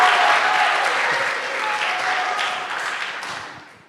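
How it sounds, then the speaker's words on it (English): Congregation applauding inside a Coptic Orthodox church sanctuary, a loud burst of clapping that echoes through the hall and gradually tapers off. "How about a round of applause?"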